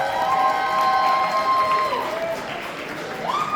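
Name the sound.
applause and cheering at a cosplay contest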